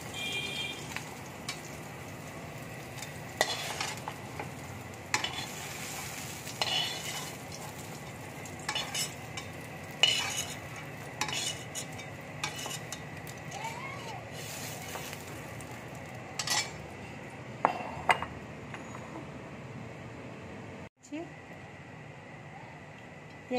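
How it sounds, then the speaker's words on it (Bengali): Fried eggplant seasoned with salt and turmeric is lifted from a hot pan into a bowl, with a utensil scraping and clinking against the pan over a steady oil sizzle and several sharp knocks. "ভাজা হয়ে গেছে, এবার আমি বাটির মধ্যে তুলে নিচ্ছি।"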